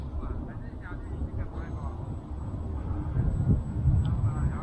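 A VolantexRC Ranger 750 RC plane flies at low throttle on a windy day, giving a steady distant hum under heavy wind buffeting on the microphone.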